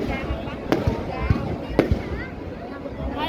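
New Year's Eve fireworks burst over Vung Tau, with several distant booms and crackles over a steady roar of a crowd and voices talking nearby.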